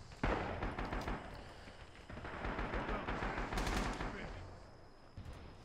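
Gunfire from a WWII rifle set to burst fire in the Rising Storm video game, rattling in repeated dense bursts over several seconds, moderately loud, with battle noise and a voice speaking underneath.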